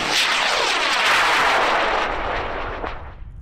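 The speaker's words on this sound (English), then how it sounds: "we're ready to go out there with the Naval Academy rocket in 5, 4, 3, 2, 1." A Naval Academy high power rocket lifting off at a club launch, heard as a loud, sustained roaring rush of motor exhaust that holds steady for about two seconds and then slowly fades as the rocket climbs away.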